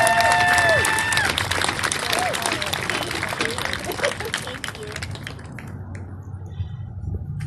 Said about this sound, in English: So everyone give a round of applause for Ashley